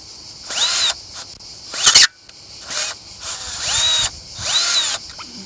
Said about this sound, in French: je vais prendre une autre perceuse, hein. Celle-là elle est pas terrible.